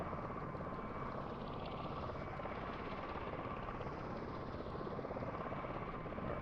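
Steady, loud engine drone of a short-takeoff airplane in a flight video game, a continuous broadband roar with a faint higher whine, held evenly for the whole stretch with no talking.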